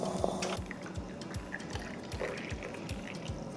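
A stovetop coffee maker (cafetera) gurgles on a stove as the coffee finishes brewing, a steady bubbling and popping with soft dripping pulses, close and moderately quiet, with no voices.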